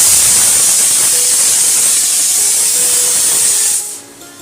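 A pressure cooker cooking dal releases a loud, steady hiss of steam, a continuous close rush that holds for about four seconds, then drops away sharply.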